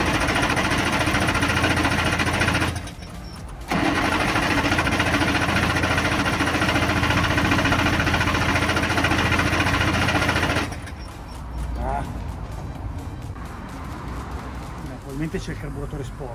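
A DKW Munga's engine, just fitted with a reconnected carburettor choke, running loud and steady in a continuous rough drone with a brief dip, then settling to a lower idle; people talk in the background.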